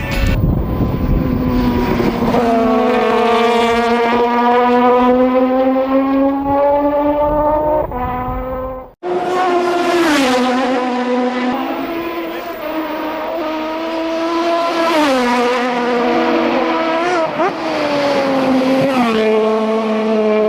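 A Norton RCW 588 rotary motorcycle engine runs loud and close, its steady droning note rising and falling with revs, cutting out briefly midway before roaring back and revving up and down again.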